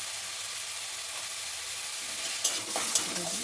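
A spice paste for egg curry fries in a pan while being stirred, giving a steady close sizzle with a few light scraping clicks of the spoon near the end.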